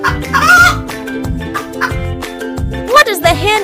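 A hen clucks in repeated short bursts, close and fairly loud, with a few sharper calls toward the end.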